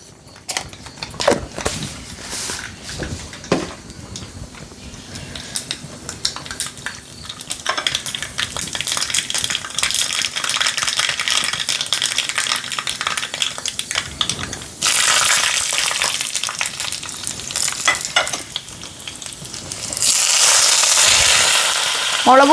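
Mustard seeds crackle and sizzle in hot oil in a pan, a steady dense frying hiss with scattered pops, growing louder and brighter toward the end.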